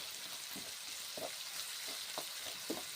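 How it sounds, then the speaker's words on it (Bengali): Masoor lentils and bottle gourd fry together in a pan with a soft, steady sizzle, broken by a few light scraping stirs; fairly quiet and close, with no talking. "মুসুরির ডাল ছেড়ে দিলাম, কষে নিচ্ছি একসঙ্গে"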